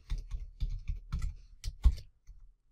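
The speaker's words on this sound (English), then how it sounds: "I'll type my password in" A password being typed on a computer keyboard to sign in to a Scratch account: a steady run of close, distinct key clicks in small clusters, with no talk.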